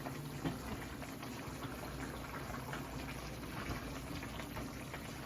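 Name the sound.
pot bubbling on the stove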